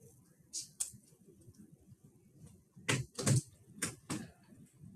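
A calculator's keys are pressed in a short, uneven run of quiet clicks and taps, with several distinct presses close together and faint room noise in between.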